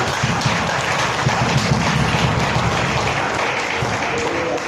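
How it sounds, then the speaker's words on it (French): Loud, sustained applause from a church congregation praising the Lord during an evangelistic service, dense steady clapping close by with no break. "Applaudis le Seigneur pour maintenant"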